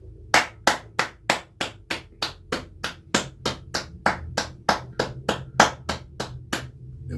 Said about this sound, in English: Let me clap it up for my team.